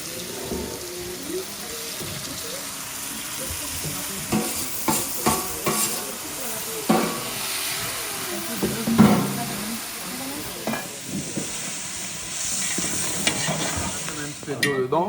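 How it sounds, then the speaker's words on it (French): Sauce for a Mauritian briani sizzles in a pan as water is poured in to deglaze, with steady frying hiss, splashes and repeated scraping stirs up close. "Un petit peu d'eau pour déglacer toute cette sauce-là."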